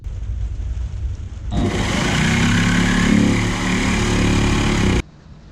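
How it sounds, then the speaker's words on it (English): A jigsaw cuts material during a camper van build, a steady loud buzzing rasp that starts abruptly, holds for about three and a half seconds, then stops, with quieter room noise before and after. "this is as far as I can go with the jigsaw"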